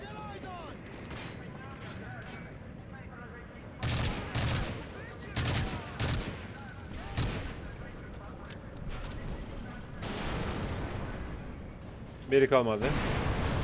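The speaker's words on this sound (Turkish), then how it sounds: "Durmadan patlıyor her şey" Explosions and gunfire in the video game Call of Duty Modern Warfare 3 go off in repeated bursts, with several loud booms, under steady battle noise and someone talking throughout.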